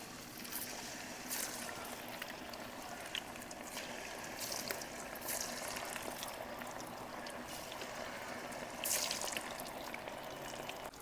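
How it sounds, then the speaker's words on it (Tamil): Mutton biryani, a 2.5 kg batch, boiling in a pot, a steady faint bubbling and liquid churning with occasional louder pops, close and without any talking. "இப்போ நம்மளோட பிரியாணி நல்லா கொதிச்சிருச்சு."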